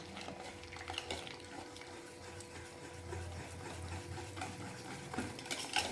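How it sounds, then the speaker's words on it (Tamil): Semolina batter is stirred after water is added, soft wet scraping and sloshing strokes repeating close by at a quiet level, with no speech. "தண்ணி சேர்த்துட்டு நல்லா கலந்து விட்டுக்கலாம்."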